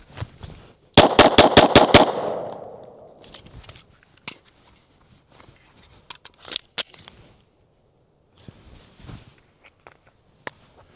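Six rapid handgun shots fired at a target during a concealed-carry draw, a tight evenly spaced burst of sharp loud cracks, followed by quieter rustling and handling noises.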